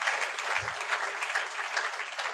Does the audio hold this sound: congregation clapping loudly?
yes